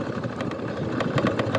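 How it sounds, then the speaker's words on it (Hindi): A Yamaha FZ motorcycle engine runs close by with a steady, throbbing mechanical drone and regular pulses, heard alone without talk. "बाइक लेके मैं घर जा रहा हूँ।"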